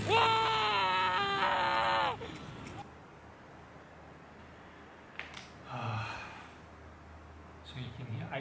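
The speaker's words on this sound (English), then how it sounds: "So you can actually hear people screaming." People screaming after the Balongan oil refinery explosion in Indramayu, Indonesia. A loud, sustained high-pitched scream lasts about two seconds, then fainter, distant cries and shouts rise briefly over a low roar.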